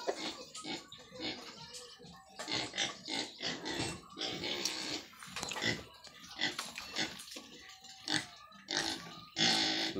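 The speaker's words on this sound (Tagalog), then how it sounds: "Ito, dalawang baboy." Two pigs oink and grunt in repeated close, loud bursts, with a person talking now and then over the animals.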